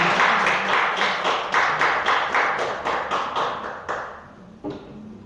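A church congregation claps loudly and close in a steady, even rhythm for several seconds, then trails off, with one last isolated clap just before the end.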